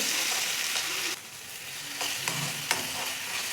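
A methi and rava mixture sizzles in hot oil in a kadai, a close, steady frying hiss with a few soft stirring scrapes and small bumps, no voices.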